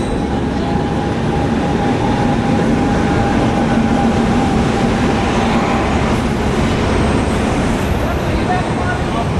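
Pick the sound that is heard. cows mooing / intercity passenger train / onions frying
intercity passenger train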